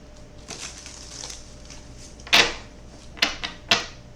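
Soft riffling of tarot cards being shuffled, with a few sharper flicking bursts, close by and quiet, no voices.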